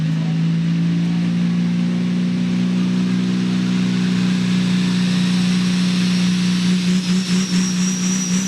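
A competition stock tractor nicknamed the Dixie Deer revs its engine at a night tractor pull, a loud sustained drone that climbs steadily in pitch and pulses near the end.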